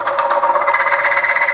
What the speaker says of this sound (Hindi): आप सुन सकते हैं फ्रिक्शन के साउंड।